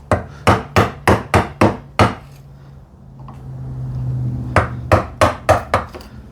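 A hammer drives a narrow chisel into wood with a quick, even run of loud, close strikes. The blows stop for a short low rumble and then come back in another rapid series.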